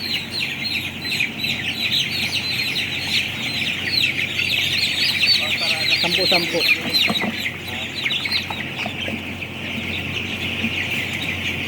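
Chickens cluck steadily at a poultry weighing spot with lights switched off, bird calls mixing with scattered chirps and a brief voice in the background.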